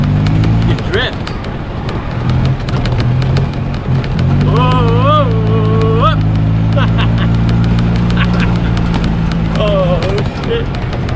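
A gas golf cart drifting, its engine droning loud and close with a rising whine as it slides, while voices shout and whoop over it.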